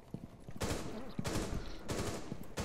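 Video game gunfire cracks out in three loud bursts of rapid shots, each a short dense volley separated by brief pauses, with soft game sounds between.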